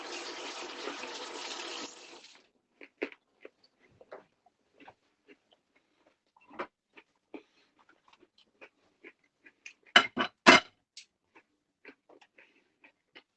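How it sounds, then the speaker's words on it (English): A tap runs for about two seconds as hands are washed in a home kitchen, followed by scattered knocks, clinks and handling noises, with a louder cluster of clatters near the end and no voices. "Wash my hands, guys."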